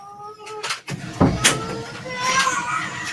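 A pet cat meows several times in short, upset-sounding calls close by, with household clatter such as a door or cupboard in between and some background sounds around it.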